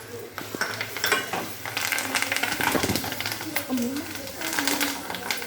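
A tempering of asafoetida and curry leaves sizzles and spatters in a pan for raw mango pulihora. Close stirring and pan clinks run throughout, and a voice is heard now and then.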